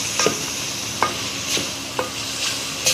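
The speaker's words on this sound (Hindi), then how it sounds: "फ्लेम को मीडियम रखेंगे, चम्मच तवाकर हिलाते रहेंगे" Spoon stirring sobat (panda), a traditional Dera Ismail Khan dish with ginger, in a pan over a medium flame; soft scraping strokes about every half second with a faint sizzle underneath, no talk.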